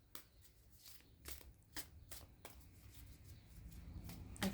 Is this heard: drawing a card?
yes